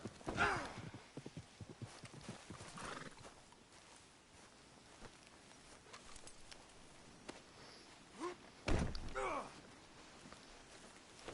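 Horse hooves clip-clop in the video game Red Dead Redemption 2 at a steady walking pace, fairly faint and distant, with a few louder thuds and scrapes breaking through the quiet ambience.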